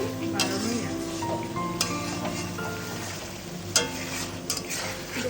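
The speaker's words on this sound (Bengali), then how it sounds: "ভালো করে আছে একটু নাড়িয়ে দিচ্ছে।" Mutton curry sizzles in a pan over high heat while being stirred, a continuous frying hiss marked by scraping and a few louder knocks against the pan.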